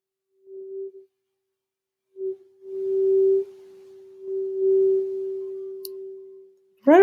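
A 384 Hz tuning fork rings into a resonance tube in a speed-of-sound lab, a pure steady tone that swells and fades in loudness as the tube position shifts, ending with a brief burst of other sound.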